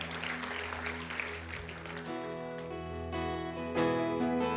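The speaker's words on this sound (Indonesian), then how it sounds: "Berikan tepuk tangan buat Tuhan kita" A church congregation at Gibeon Church Surabaya claps during worship, a dense burst of applause that fades after about two seconds as sustained music with held tones takes over.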